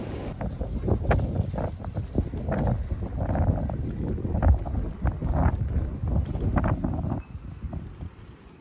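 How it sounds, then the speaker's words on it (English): Wind roars through trees on a frozen farm during maple tapping season, a steady gusty rush with rumbling buffets throughout and no talk. "And listen to the wind."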